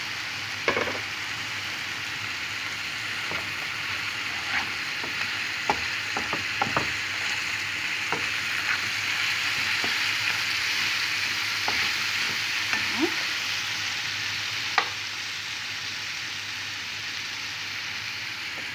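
Sunflower oil and butter sizzling in a frying pan with chicken gizzards, a steady close crackling hiss broken by scattered sharp pops and spatters.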